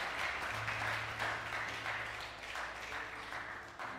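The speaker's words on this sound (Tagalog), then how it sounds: "Tuloy natin yung palakpak sa Diyos" A church congregation claps in praise to God, a moderate, fairly even patter of many hands lasting several seconds, with a low hum beneath it.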